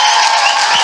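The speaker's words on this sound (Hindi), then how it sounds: "या यीशु के लिए ताली बजाएंगे।" A church congregation breaks into sustained applause, a dense, steady wash of many hands clapping loudly throughout the short moment, with no talk over it.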